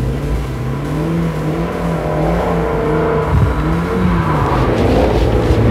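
A Mustang drifting, its engine revving hard with a steady droning roar that rises and falls in pitch, loud and close throughout.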